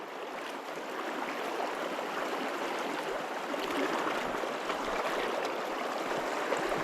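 Steady broadband rush of shallow river water flowing over stones, continuous and fairly close, with no voices.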